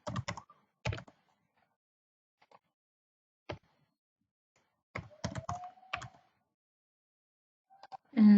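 A password is typed on a computer keyboard during an Oracle Linux Server 7.5 installation, heard as short, close bursts of keystrokes separated by silent pauses in a quiet room.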